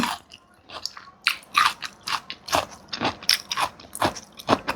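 Crunchy, not-too-sweet candied madan fruit bitten and chewed up close, a run of sharp crisp crunches and wet chewing bursts in an irregular rhythm, with no talking.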